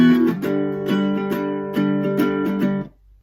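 A full line of a song strummed on acoustic guitar, rhythmic repeated strokes with sustained ringing chords, close and solo, fading out at the end.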